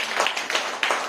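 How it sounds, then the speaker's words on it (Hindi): A congregation claps hands together during a Hindi healing and intercession prayer service, a dense, steady patter of many hands in fairly quick rhythm that fills the room. "जोर से ताली बजाएंगे"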